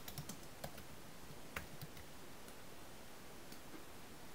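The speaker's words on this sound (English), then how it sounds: "I would type in some text." Light typing on a computer keyboard, a faint scattered series of soft key clicks at an uneven pace over quiet background hiss, with no talking.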